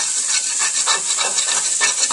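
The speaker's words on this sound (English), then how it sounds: "So I might even take a metal spoon, oddly it's slotted, and give it a scrape" A metal slotted spoon scrapes along the bottom of a pot of butternut squash soup, giving repeated close rasping strokes over a steady sizzling hiss, with no talking.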